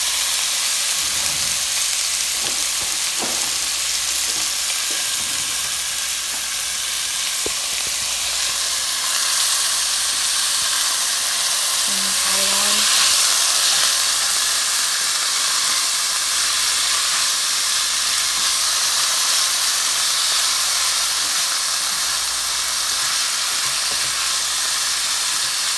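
Thin slices of beef steak fry in hot oil in a pan for a beef and broccoli stir fry, a steady close sizzle and hiss running unbroken throughout with brief stirring rustles.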